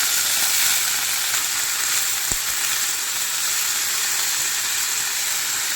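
Red amaranth greens sizzling in hot oil with fried garlic and dried chilli, a steady, loud, close frying hiss with one brief click partway through.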